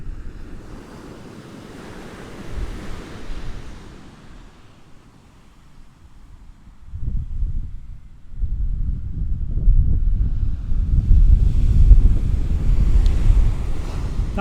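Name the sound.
wind blowing on the Hornsea coast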